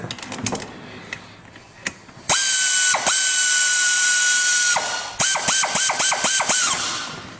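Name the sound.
ratchet wrench turning bolts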